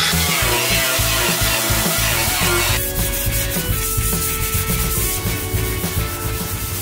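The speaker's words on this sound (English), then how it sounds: "I'm just cleaning off most of everything and agitating slash sanding all of the surfaces, cleaning up the welds" Continuous abrasive sanding and scuffing across the metal body panels and welds of a rat rod car under prep for paint, a loud, close rasping rub that shifts rhythm partway through, with no talk.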